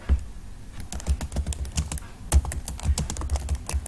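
A name is typed on a computer keyboard in a quick, irregular run of close, crisp key clicks, heard alone without talk.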